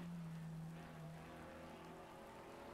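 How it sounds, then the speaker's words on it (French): Heavy rain at Indianapolis in a GT America racing game hisses as a steady, faint wash, with a low droning engine tone running beneath it throughout. "Très très compliqué cette pluie battante ici à Indianapolis."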